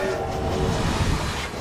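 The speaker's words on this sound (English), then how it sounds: "He blasted the whistle" A train rumbles loudly and closely through a foggy night, its whistle blasting over the heavy, dense roar of the wheels on the rails.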